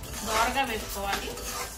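Lentils and spices for kandi podi roast in a little oil in a pan until golden, with a steady scraping stir and a soft sizzle running throughout.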